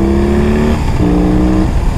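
A BMW R18 big boxer motorcycle, weighing 345 kilograms, drones loudly and steadily while being ridden, its engine pitch dipping and then settling again.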